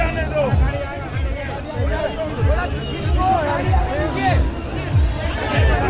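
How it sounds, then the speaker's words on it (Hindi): A large crowd packs Amit Shah's roadshow in Kolkata, a steady babble of many voices with rhythmic drumming-like thumps beneath, while a nearby voice talks over it. "ये देखें जरा कोलकाता में किस तरीके से भीड़ है।"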